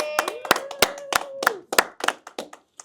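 An audience at a podcast show clapping by hand, a dozen or so distinct, fairly close claps in an uneven rhythm that thin out toward the end.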